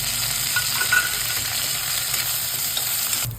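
A tempering of curry leaves, green chillies, onion and ginger-garlic paste fries in hot oil for an aloo palak curry. It gives a dense, continuous sizzle, close and fairly loud, with no speech.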